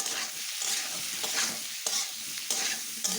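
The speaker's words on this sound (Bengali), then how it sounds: "দিয়ে একটু লাল করে ভেজে নেব।" Spiced jackfruit curry frying in a pan with turmeric and salt, a continuous close sizzle broken by repeated scraping stirs of a spoon, with no talking.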